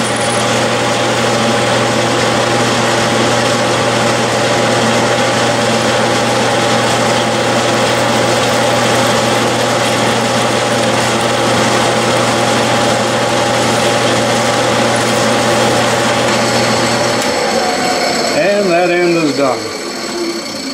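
Continuous steady mechanical whine and hum of a Bridgeport milling machine drilling a hole, loud and close, with a tonal change as it slows near the end.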